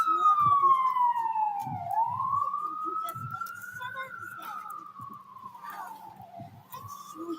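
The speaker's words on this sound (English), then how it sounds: "Sirens." A wailing siren sweeps up and down continuously, fairly close, with faint voices and low traffic rumble underneath.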